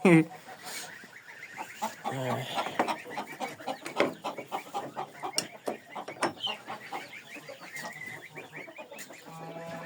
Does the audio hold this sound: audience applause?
no